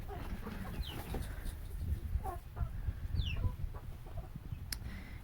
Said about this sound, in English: My beautiful rooster.